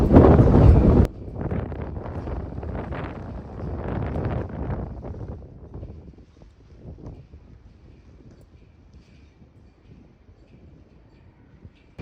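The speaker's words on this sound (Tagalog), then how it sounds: "Mahangin dito." Steady wind buffeting the microphone near Parliament Hill in Ottawa, Canada, a loud rough burst at the start, then a broad blustery rush that gradually fades softer over the remaining seconds.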